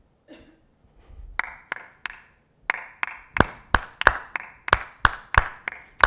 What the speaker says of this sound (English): So if I did it again, I'll clap with them myself.